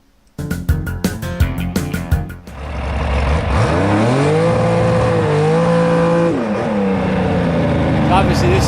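Race car engine accelerating hard on a run, heard from a roll bar camera mounted over the top of the car, a loud steady roar with rising and shifting engine tones after a few sharp bursts at the start.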